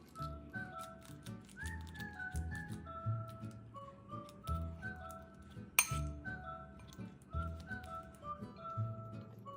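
Peeled banana, 200 grams, is mashed into a paste in a bowl, with a steady run of light metallic clinks and taps of a utensil against the bowl, close and fairly quiet, with no talking.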